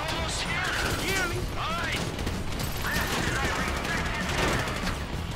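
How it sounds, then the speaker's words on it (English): Dense bursts of rapid gunfire crackle continuously in Grand Theft Auto 5 gameplay during the Paleto Score heist, with a voice speaking over the din. "You hear that gunfire?"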